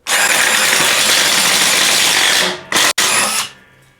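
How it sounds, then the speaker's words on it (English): A loud DeWalt 20V XR DCF845 cordless impact driver with a 3/8-inch drill bit whirs steadily for about two and a half seconds, stutters briefly, then winds down to a stop. "we're gonna be doing some drilling. A 3/8 drill bit."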